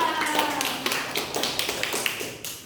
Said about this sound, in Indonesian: Tepuk tangan untuk Indri ya.